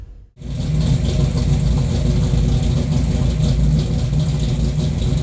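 A Chevy shortbed pickup truck engine starts up and then revs loudly and steadily, a close, continuous roar running nearly the whole time with no talking.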